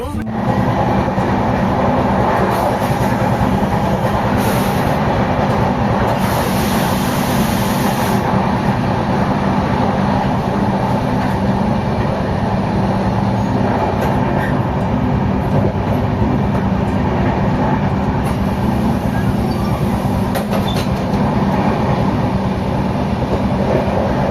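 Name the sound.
train at station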